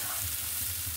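Frying for a vegetarian dal sizzles in a pan, a dense steady crackle up close with a faint rhythmic stirring thump underneath, no talk.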